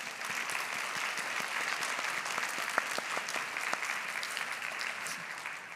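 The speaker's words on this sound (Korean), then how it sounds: "결혼 축하의 박수" A church congregation at a Sunday service gives steady, sustained applause for a newly married couple, a dense, even clapping that runs throughout without speech.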